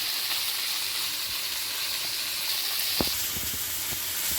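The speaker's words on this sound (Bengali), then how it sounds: "মাছগুলো সুন্দর করে ভাজা হয়ে যাবে" Fish fry in hot oil in a pan, a close, continuous hiss and sizzle throughout, with a few soft knocks and clicks near the end.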